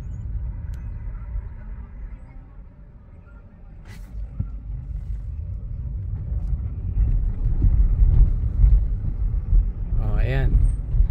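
A Tesla car driving itself on Full Self-Driving, heard from inside as a continuous low road and engine rumble that swells slightly toward the end, with faint cabin sounds and a brief higher whine near the close.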